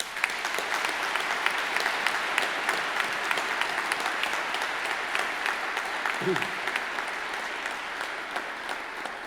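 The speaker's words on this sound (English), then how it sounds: "I now ask the members of the audience to applaud your accomplishments" Graduation ceremony audience in a large hall applauding the new graduates, a steady, even wash of many hands clapping throughout, fairly distant and moderate in level, with a brief low voice or cough partway through.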